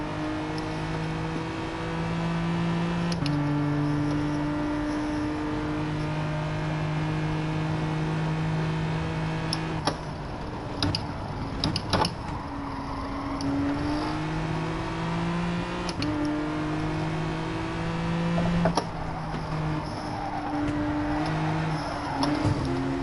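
A race car engine in a racing video game revving hard in second gear with the tires spinning, its steady loud drone rising and falling in pitch as the revs shift, with no talk over it.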